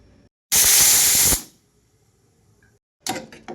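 Pressure cooker on the stove releases a loud, sustained burst of hissing steam for about a second, falls silent, then starts a second shorter hiss, with no talking.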